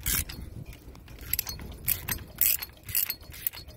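A wrench tightens the triple lug on a Blue Ox Avail towbar, producing close metallic ratcheting clicks and clinks in irregular bursts, with no talk.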